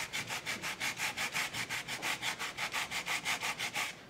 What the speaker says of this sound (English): I'm just kind of going back and forth over the same areas and letting the paint kind of decide where it's going to come off